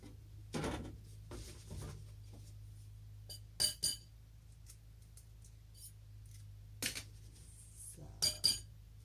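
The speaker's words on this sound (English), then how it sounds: "So to start with, I'm gonna crack the eggs" Eggs cracked into a small baking dish for a frittata: soft tapping, light clinks and a couple of sharp double knocks against the dish, close but quiet, with faint background hum.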